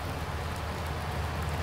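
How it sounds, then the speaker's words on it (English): Rain in Farming Simulator 19 falls as a steady, even hiss of drops, soft and continuous with no voices over it. "it's raining out"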